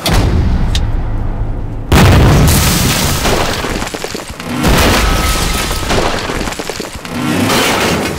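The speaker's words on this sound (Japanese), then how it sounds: "炸桥。" A bridge is blown up in a wartime scene: one sudden, heavy explosion booms loudly after a brief quieter moment, followed by a long, rolling rumble and scattered crashing debris.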